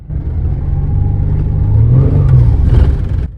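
A car with a shaking transmission revved to about 3,000 rpm in reverse during a test of a transmission fix product; the loud engine drone climbs and holds while the car barely moves, then cuts off.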